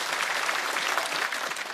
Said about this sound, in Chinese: 再次掌声送给 Echo。